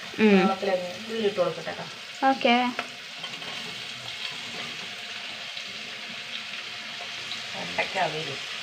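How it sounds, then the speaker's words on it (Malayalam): Okra frying in a pan gives a steady, even sizzle throughout, with a few short bursts of voices near the start and again at the end. "ചെറുതായിട്ടൊന്ന് മൂത്ത് വന്നിട്ടുണ്ട് വെണ്ടയ്ക്ക"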